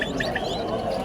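Small birds chirp and tweet in quick bright bursts over a steady crowd murmur at a busy open-air poultry and bird market in Tashkent, with faint low coos mixed in.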